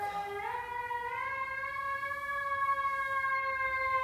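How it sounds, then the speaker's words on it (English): A fire truck siren wails steadily in the background, a single sustained rising tone that holds for several seconds at moderate distance, with no voices over it. "Got a siren blaring right now in the background. Sounds like a fire truck"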